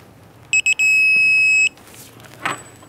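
Electronic torque wrench tightening lug nuts to 119 foot-pounds on a 2006-2013 Chevrolet Impala wheel hub gives three quick, loud beeps and then one sustained tone, with a faint clink just after in a quiet shop.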